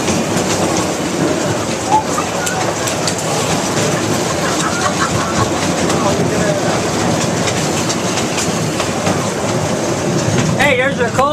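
Steady rolling rumble and rhythmic clatter of a coal-hauling train running on rails, loud and continuous throughout, with people chatting over it.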